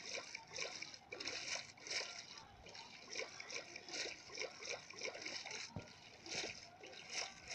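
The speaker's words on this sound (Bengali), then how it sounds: "তাতে আমার চালাতে হবে বোট।" A boat glides across water in Minecraft, making rhythmic splashing and sloshing strokes that are faint and steady.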